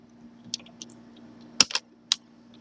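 Keystrokes on a computer keyboard, a scattered handful of clicks with a louder cluster near the end, close and fairly quiet over a low steady hum.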